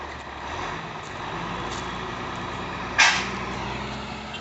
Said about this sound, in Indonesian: Proses penarikan evakuasi akan segera dimulai, bosku ya. Dengan satu unit truk aja ya.